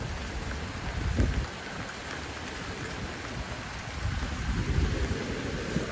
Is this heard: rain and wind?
yes